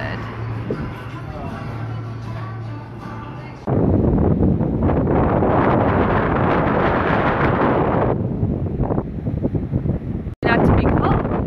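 Wind buffets a microphone on a California beach in Palm Springs travel footage, a loud broadband roar that surges in strongly after a quieter start with a low hum and faint voices, then drops briefly near the end.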